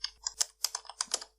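Quick bursts of keystrokes on a computer keyboard as a search is entered, crisp close-up clicks in an uneven rhythm with no voice over them.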